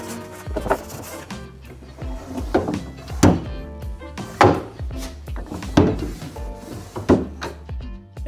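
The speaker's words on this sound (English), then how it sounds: "added some paste wax to the drawer runners before getting the drawers reinstalled in the bench" Wooden workbench drawers on paste-waxed runners sliding in and knocking shut, a string of hollow wooden thunks and bumps at irregular intervals, close by with no talking.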